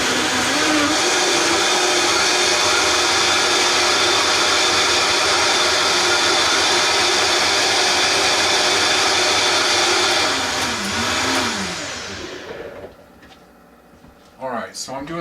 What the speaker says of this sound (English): So we go over to the Vitamix. I'm going to turn this over.